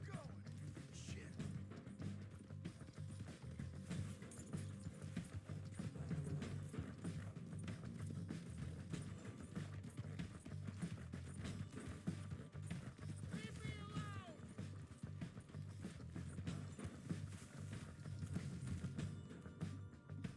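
Horse hooves gallop at a steady, rapid clip in Red Dead Redemption 2 gameplay, continuous and moderately loud over a dense bed of game sound across the whole stretch.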